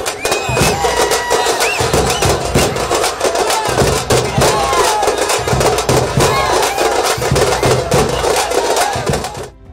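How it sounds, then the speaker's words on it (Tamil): Fans celebrate a Leo film release outside a theatre, a dense, loud wash of crowd noise, cheering and drumming with sharp crackling bursts, continuous throughout. "ரசிகர்கள் ஆரவாரம் செய்து கொண்டாடினர்"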